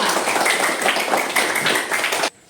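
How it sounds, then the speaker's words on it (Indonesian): A group claps hands together in a dense, steady burst of applause that ends abruptly, loud and close. "Ya, tepuk tangan untuk kita semua"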